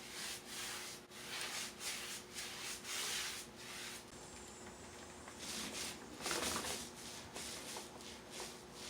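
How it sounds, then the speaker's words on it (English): A paint roller spreads paint across a bathroom wall in steady, repeated rubbing strokes, close and fairly even in loudness, with a brief rougher swell near the end. "And then my roller just smooths out what I just did."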